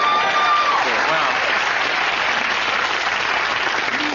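A studio audience at a sitcom taping applauds in a dense, even wash of clapping that holds steady for several seconds, with a brief faint tone at the very start.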